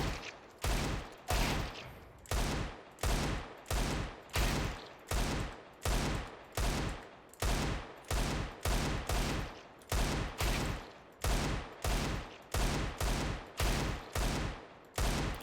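Desert Eagle pistol shots in CS:GO fire one after another at a steady, rapid rhythm, about two dozen loud, sharp reports with short gaps between them, close and alone.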